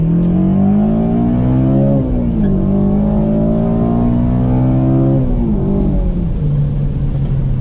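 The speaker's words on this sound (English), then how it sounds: "First gear pull." An 8th-generation Honda Civic Si makes a hard first-gear pull on a freeway on-ramp, its engine note rising in loud, close revving sweeps, dipping briefly at shifts and climbing again, with no talk.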